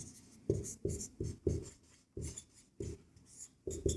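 A pen scratches across paper in short, brisk strokes, about a dozen quick scribbles with brief pauses between them, close and fairly quiet with no talk.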